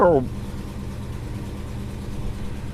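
Holden HK car engine idling with a steady low rumble that stays even throughout, opening with a brief voice-like sound.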